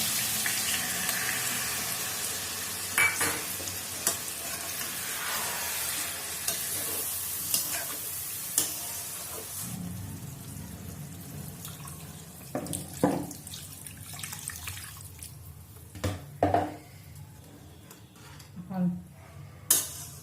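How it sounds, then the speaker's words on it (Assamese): Cauliflower, tomato and small fish curry cooking in a pan, a soft sizzle and hiss with intermittent stirring knocks and scrapes, gentle and close, turning sparser and clattery toward the end. "লাহে লাহে লৰাই দিম।"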